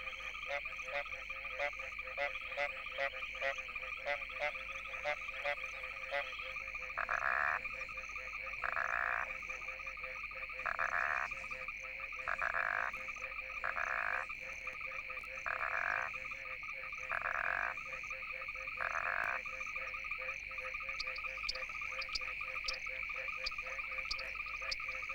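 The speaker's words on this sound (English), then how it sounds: "It's the serenade of the frogs, a sort of male voice choir" A dense chorus of frogs croaks continuously at night in Africa, with steady trilling and regular pulsing calls repeating every second or so, insects chirring faintly beneath.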